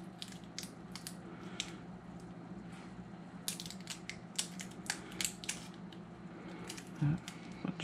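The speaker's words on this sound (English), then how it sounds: "take a razor blade. I'll slice that tape thing." A razor blade slices through old 1970s tape on a Marantz 2015 tuner, making a string of small scraping, crackling cuts and clicks, close and fairly quiet, with a louder rustle near the end.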